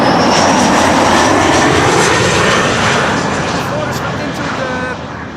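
A KLM airliner in Orange Pride livery approaches Amsterdam Schiphol Airport with a loud, dense engine roar that fills the air and eases off only slightly toward the end.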